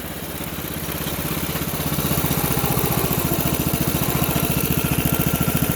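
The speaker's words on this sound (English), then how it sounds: "just going to let it idle and see what happens" A Honda GX200 small single-cylinder engine on a mini go-kart idles close by, a steady rapid chugging putter that swells slightly louder after the first two seconds and then holds an even rhythm, with no talk.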